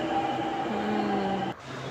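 A metro train pulling into a station gives a loud steady rumble with tonal whine and hum, which cuts off abruptly near the end as the noise drops.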